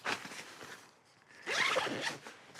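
A zipper runs along the edges of two Quechua Air camp bed bases as they are joined for double-bed use, with two close, rasping pulls, the second longer and louder.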